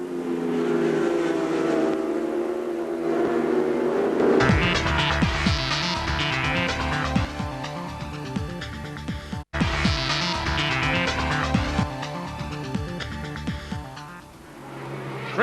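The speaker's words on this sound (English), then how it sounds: "Chris Walker on the National Tyre Suzuki slinks it absolutely sideways right in the face of John Reynolds." A Suzuki superbike screaming around the track in a 2000 British Superbike race, with more bikes in the pack: loud, sustained, high-revving engine wail that rises and shifts as machines pass, heard without voices.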